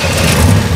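A cartoon car engine, just repaired by a breakdown mechanic, turns over in a brief, loud, rough burst of rumbling noise with no talking.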